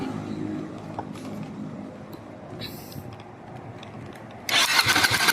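A Yamaha Mio motorcycle engine cranks and churns steadily for several seconds without catching despite strong electrical power, then a loud burst of hissing noise cuts in near the end.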